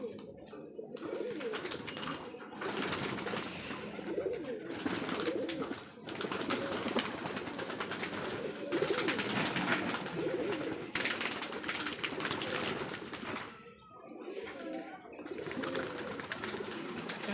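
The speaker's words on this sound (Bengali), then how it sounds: "ভাই কবুতর সব ছাড়তেছে দেখেন" Giribaz pigeons being released by a handler, soft repeated cooing and wing flutters under a busy outdoor background, with people talking nearby.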